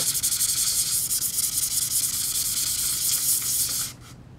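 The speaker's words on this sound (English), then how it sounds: "But first I have to sand it to rough it up so it's ready for the paint." Steady, close, hissing rasp of sandpaper scrubbed rapidly back and forth over a MacBook Pro's metal casing, continuous for about four seconds before stopping abruptly.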